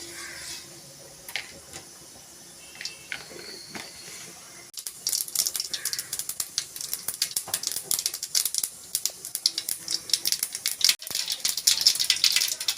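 Sparse faint pops give way to rapid, crackling spluttering as mustard seeds burst in hot oil, growing busier and louder toward the end.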